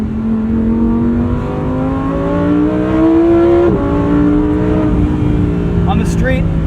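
A Lamborghini Huracan's mid-engine accelerates up through a gear, its loud steady drone climbing in pitch before a brief shift dip, close by with a voice talking over it.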